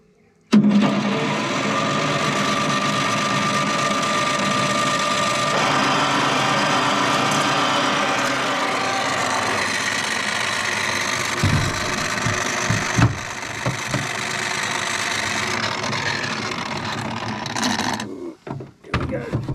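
The motor of a koi pond food feeder spins with a steady mechanical whir for several seconds, then sputters into a few knocks and stops, close by.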